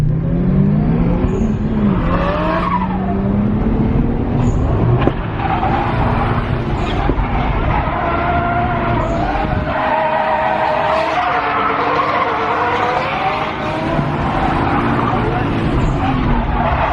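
A car drifting on a winding mountain street, engine roaring steadily with tires squealing through long slides, loud and continuous throughout, with voices faintly under the noise.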